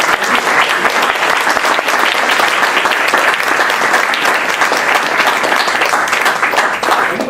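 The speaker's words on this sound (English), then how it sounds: "What is your applause for that speech?" Sustained audience applause fills the room after a Toastmasters educational speech, a dense, steady wash of many hands clapping at even loudness throughout, with no voices over it.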